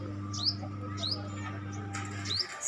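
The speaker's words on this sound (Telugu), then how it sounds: "పసుపు చెట్ల మీదకి చూడండి ఎన్ని పక్షులు వస్తున్నాయో." Several small birds chirp and tweet around yellow-flowered plants in the morning, short bright calls scattered over a steady low hum, moderately near.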